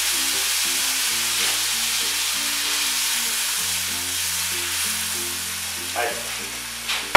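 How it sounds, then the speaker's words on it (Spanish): Asparagus broth goes into a hot pan already holding white wine, producing a steady, close sizzle and bubbling hiss that lasts throughout, with a faint clatter of utensils near the end. "Y ahora ya le echamos el caldo de los espárragos."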